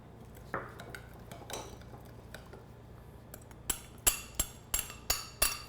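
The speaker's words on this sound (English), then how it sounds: "you're just whisking this together" Whisk clinking quickly against a bowl while mixing turmeric salad dressing with garlic, ginger, lemon juice and agave, in sparse light taps that build into a run of sharper, evenly spaced strikes.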